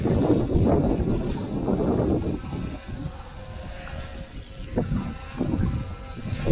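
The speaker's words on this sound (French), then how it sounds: "j'ai beaucoup de vent" Outdoor wind buffeting the microphone during a drone review, heavy low rumbling gusts that surge and ease across the clip, loud and close, with no talk.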